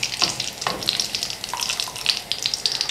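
Pickle masala fries in lukewarm oil with a close, busy sizzle, broken by a few light scrapes of a stirring spoon.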